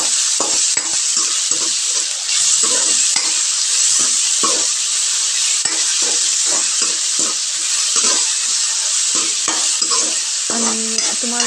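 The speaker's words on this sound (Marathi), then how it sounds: "कांद्याला तेलामध्ये आपल्याला परतून घ्यायचं आहे" Onions sauté in hot oil in a pan for an onion and tomato chutney, with a steady loud sizzle broken by repeated scraping strokes of a stirring spoon.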